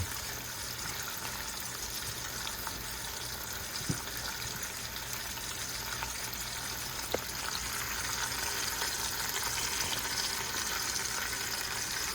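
Pork browning in a pan gives a steady, hissing sizzle at even loudness, close by, with a couple of faint clicks.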